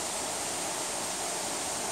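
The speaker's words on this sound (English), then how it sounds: "Here's the ground is all flowing water like this." Steady broadband rush of flowing water and a small waterfall inside an abandoned paper mill in Hamburg, a continuous even hiss with no voices.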